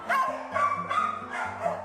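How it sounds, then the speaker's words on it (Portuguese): A dog in an animal shelter barks and yelps in a few quick, close bursts, with more dogs barking and whining behind it. "Esse latido aí é de carência,"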